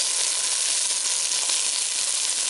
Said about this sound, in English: you can probably hear the sizzle